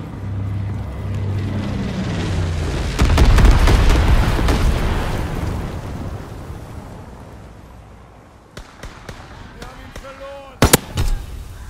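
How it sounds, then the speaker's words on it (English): Incendiary bombs from an enemy bomber strike in Call of Duty WW2 hardcore domination: a deep rumbling wave of explosions swells loud around three seconds, then fades, followed by a few sharp, close bursts near the end. "Incendiary bombs incoming."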